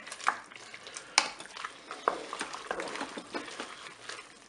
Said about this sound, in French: et puis je vais mélanger. Je mélange.